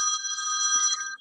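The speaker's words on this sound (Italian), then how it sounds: "Proprio mentre squillava tra l'altro il telefono" A telephone rings with a bright, sustained electronic tone holding steady pitches for about a second, fairly clear and uninterrupted.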